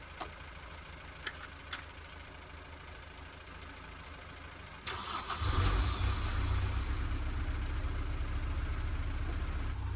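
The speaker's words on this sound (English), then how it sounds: "It runs, at least." A neglected VW Golf engine cranks after a few faint clicks and catches, then settles into a loud steady running rumble close by with no talk.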